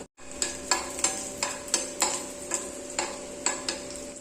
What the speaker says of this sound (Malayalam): ഇനി ഈ നെയ്യിലേക്ക് നമ്മൾ കുറച്ച് മുന്തിരിങ്ങയാണ് ഇട്ട് കൊടുക്കുന്നത് ഉണക്ക മുന്തിരിങ്ങ എന്നിട്ട് നമുക്കിതൊന്ന് റോസ്റ്റ് ചെയ്തെടുക്കാം